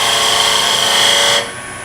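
A skew chisel on a wood lathe cuts into the end grain of spinning wood, giving a steady, close, loud hissing scrape with a high whine that drops off abruptly near the end.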